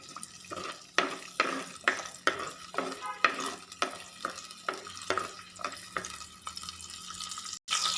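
Whole shallots frying in a pan for an okra curry, a steady sizzle with repeated rhythmic scraping strokes of a stirring spoon, close and fairly loud.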